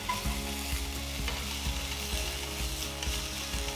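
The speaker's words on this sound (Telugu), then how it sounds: "ఇప్పుడు ఒక టీ స్పూన్ అల్లం వెల్లుల్లి పేస్ట్ వేసి అంతా ఒక్కసారి కలపాలి" Spatula scraping and stirring golden brown onions with ginger garlic paste in a pan while cooking a vegetable kurma, a repeated rhythmic clatter of roughly eight strokes over a steady frying sizzle, close and fairly loud with no talking.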